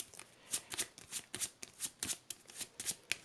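Marvel Champions playing cards are handled and shuffled close by, a rapid series of crisp riffling flutters in quick bursts with no voices.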